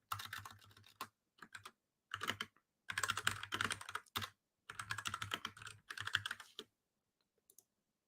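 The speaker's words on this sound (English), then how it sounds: "you're going to be hearing my keyboard for a little bit" Close-up typing on a computer keyboard, several quick bursts of clattering keystrokes separated by short pauses, alone and fairly quiet.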